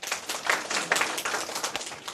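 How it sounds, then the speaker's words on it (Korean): Audience at an English-motivation lecture giving a brief round of clapping, moderately loud and steady for a couple of seconds with no talk over it. "자, 박수 한번 쳐주세요."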